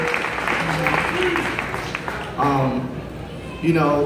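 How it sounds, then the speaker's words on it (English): Applause from a crowd, a steady wash of clapping with voices talking over it, swelling louder near the end. "I want the coaches to give themselves a round of applause"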